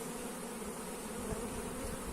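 Honey bees drone steadily around an open hive during brood-frame work, a dense, continuous, close buzzing swarm without talk.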